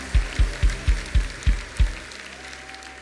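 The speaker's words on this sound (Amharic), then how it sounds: "በኃይል አጨብጭቡ እስቲ ለመንፈስ ቅዱስ።" Congregation at a church service clapping in strong unison, about seven loud rhythmic claps in a row before fading into quiet.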